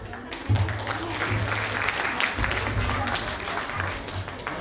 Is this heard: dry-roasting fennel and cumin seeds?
no